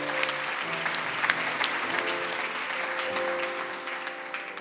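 A church congregation applauds the Lord, a sustained ripple of many hands clapping at moderate distance, fairly soft and even throughout.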